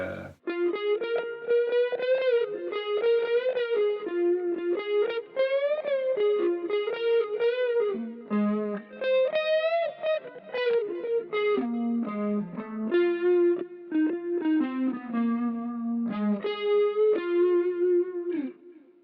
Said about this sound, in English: Sometimes he kicks in the distortion or overdrive, and you get sounds like